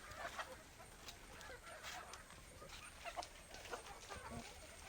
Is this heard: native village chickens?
yes